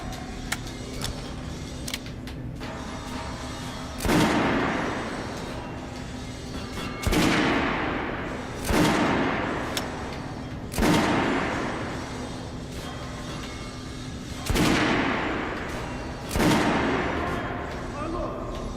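Volleys of rifle fire ring out at an underground shooting range in Metro Last Light, six loud booming shots spaced a second or two apart, each trailing a long echoing decay over a low hum.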